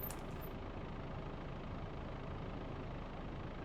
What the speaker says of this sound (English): you can hear the engine running